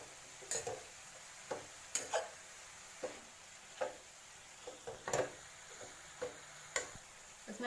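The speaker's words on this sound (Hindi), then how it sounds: "इसको भी हम अच्छे से मिक्स करेंगे सारे मसाले को" Spices being mixed into spring roll filling, a series of soft, close clicking taps of a spoon against a bowl at an irregular, roughly once-per-second pace, quiet and without talk.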